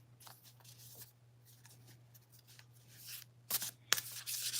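A deck of playing cards is handled and shuffled at close range. Soft rubbing riffles come first, then a few sharper, louder shuffle bursts toward the end, all over a low steady hum with no talking.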